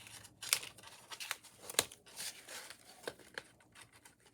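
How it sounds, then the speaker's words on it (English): Scissors snipping a small piece off paper for a handmade card, a few quiet crisp cuts at close range with light paper rustling between them. "I still need to cut some little piece off"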